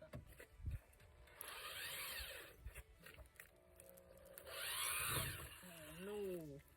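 A power drill whirs in two bursts as it bores into the body panel of a Nissan 240SX during overfender repair, with a higher whining pitch sweep near the end and talk in between.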